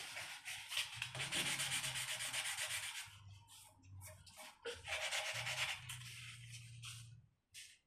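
A nail-file buffer block rubs back and forth across the sharp frets of a guitar in long, close, raspy sanding strokes, pausing briefly between passes.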